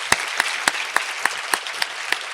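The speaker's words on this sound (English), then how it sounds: "Let's give one more round of applause." Applause from an audience at a women's forum, heard as a wash of clapping with sharp, evenly spaced claps standing out close by, about three per second.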